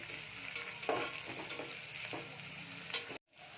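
Vegetables for veg pulao fry in oil over a high flame, making a constant close sizzle with scraping stirs. The sound cuts off abruptly near the end.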